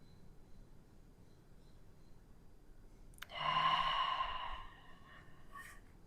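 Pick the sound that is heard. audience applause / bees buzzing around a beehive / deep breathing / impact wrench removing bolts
deep breathing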